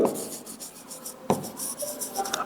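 Chalk or marker scratching across a board during a physics lesson, close and fairly loud, with continuous rubbing strokes broken by a sharp tap partway through.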